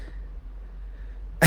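A single abrupt sneeze bursts out right at the end after near silence with a faint low hum, close and loud.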